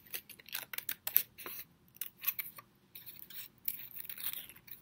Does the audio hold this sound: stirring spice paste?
no